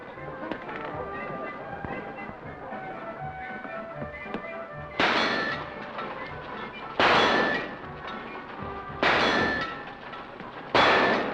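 Gunshots strike shooting gallery targets in a Western film, landing as four loud, evenly spaced bangs with ringing clangs over a busy background of voices.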